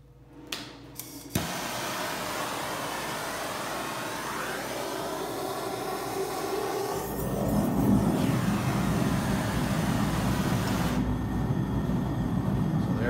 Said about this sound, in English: turn the gas, and then light it.